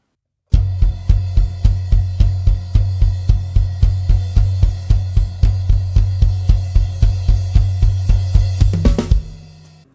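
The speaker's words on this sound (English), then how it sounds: "the bass drum, and also a crash cymbal all at the same time." A drum kit plays a build-up, with floor tom and bass drum struck together in a steady driving pulse of evenly spaced, loud, close hits, ending in a crash cymbal that rings out as the pattern stops.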